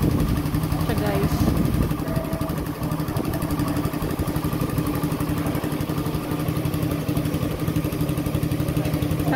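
Motorcycle engine idling steadily with a rough, clattery rumble during a registration sound test at a Santa Rosa facility, running continuously under a voice talking over it.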